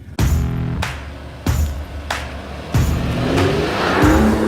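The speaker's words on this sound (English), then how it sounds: "the car just goes steady at 6 kph" A 2019 Mercedes-Benz GLE crawls off-road at 6 kph over stones and curves, its low engine drone broken by a series of sharp, evenly spaced clunks and thumps, close and fairly loud, with no talking.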